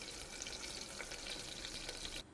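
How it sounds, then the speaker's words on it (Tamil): One cup of onions fries in hot oil for a mutton gravy, giving a steady, dense sizzle up close that cuts off abruptly just before the end. "எடுத்து வச்சுருக்க 1 கப் வெங்காயத்தையும் இதில் சேர்த்துட்டு நல்லா ஃப்ரை பண்ணி எடுத்துக்கோங்க"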